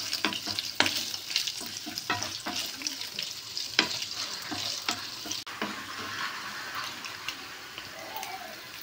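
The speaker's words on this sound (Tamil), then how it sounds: "பேனில் 50 ml எண்ணெய் சேர்த்து கட் பண்ணி வச்ச எக்கை எண்ணெயில் நல்லா ரோஸ்ட் பண்ணி விட்டுக்கலாம்" Cut eggs roasting in about 50 ml of oil in a pan for an egg pepper sukka fry; a steady, moderate sizzle with repeated sharp scrapes and clicks of a spatula against the pan.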